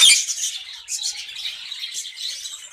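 Albino personata lovebird pair inside a clay pot, giving rapid high-pitched squawks and chirps that run steadily and close, with no talk over them.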